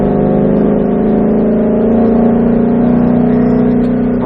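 A Shelby GT500 pulls hard on a race track, its engine revving loud and close with a rising, sustained roar for several seconds.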